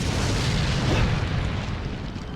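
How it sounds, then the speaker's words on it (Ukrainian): A single incendiary grenade blast from Resident Evil 4 fills the clip as a loud, sustained boom with a broad roaring wash that slowly fades, alone without talk. "Мабуть, давайте навіть запальну гранату спробуємо."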